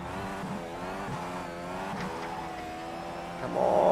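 Dallara Indy car in a sim racing game at Indianapolis, its engine droning steadily at high revs with rising harmonic tones and a louder surge near the end, no talking over it.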